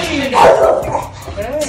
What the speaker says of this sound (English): she's barking so loud